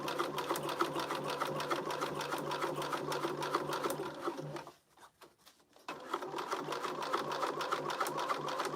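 Sewing machine top-stitching a Rae crossbody bag runs in a fast steady whir, pauses for about a second, then starts again at the same even pace, close and clear with no voices.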